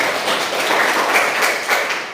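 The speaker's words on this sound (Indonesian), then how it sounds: "beri tepuk tangan untuk kelompok 1" A class applauds group 1 in a brief burst of clapping, close and fairly loud, with dense overlapping claps that fade slightly toward the end.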